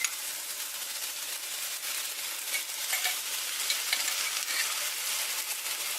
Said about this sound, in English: I'm going to go ahead and add a little bit of this Alfredo sauce into it.